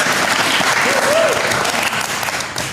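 A crowd applauds loudly and steadily at a Mar-a-Lago interview, clapping sustained throughout with voices mixed in.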